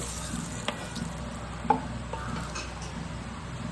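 Oil left over from frying gurjali fish sizzles quietly in a pan, a steady low crackling hiss with a few soft ticks and pops close by, and no one speaking.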